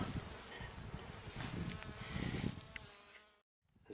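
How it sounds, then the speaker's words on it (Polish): Honeybees buzz loudly and continuously at close range around a hive during a February inspection after winter, a dense droning hum that fades and cuts out near the end. "Pszczoły latają."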